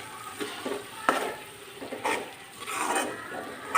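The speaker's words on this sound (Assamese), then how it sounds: "বেঙেনা পোৰাখিনি দি ভালদৰে এইদৰে লৰাই দিব।" Roasted brinjal (eggplant) being stirred into a fish curry in a pan, with a few scraping, sloshing strokes of the spoon against the pan spread over a few seconds, close and moderately quiet.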